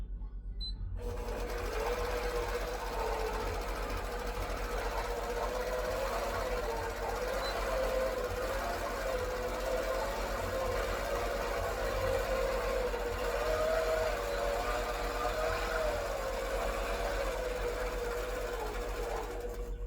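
A longarm quilting machine stitches a quilt in a steady, continuous mechanical hum with a faint rhythmic whir, loud and unbroken for nearly the whole stretch after a brief quiet start.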